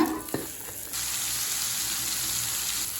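Chicken tikka pieces frying in a pan, a steady broad sizzle that jumps louder after a brief clatter near the start and then holds evenly, close and without talk.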